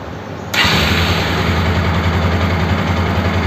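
A Bajaj NS 200 motorcycle engine, freshly refitted, fires up after a brief quiet moment, jumping abruptly into a loud, steady running roar that holds for the remaining few seconds.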